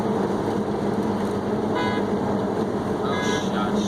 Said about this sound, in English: They were honking at me because I was still in my lane.